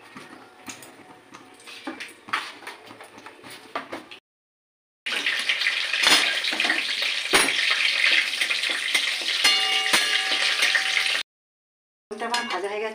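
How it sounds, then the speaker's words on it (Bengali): Whole cumin, cinnamon and cardamom tempering in hot oil: a harsh, loud hissing sizzle bursts up after a short silence and holds steady, broken by a brief cut, with quieter kitchen clatter before it. "আর দেবো একটু গোটা জিরে।"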